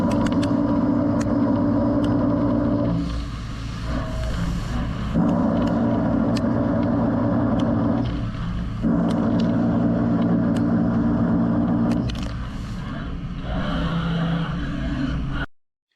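A Makino Slim5n machining center cuts aluminum with a 16,000 RPM spindle, loud sustained tonal whine in repeated passes separated by short quieter pauses, with sharp clicks between cuts before ending abruptly.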